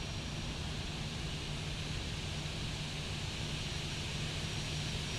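A Boeing 737NG jet doing a flyby in the X-Plane 12 flight simulator, a steady, broad engine roar held at an even level throughout, with no one talking.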